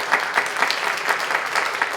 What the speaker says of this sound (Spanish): Aplausos para Charlie.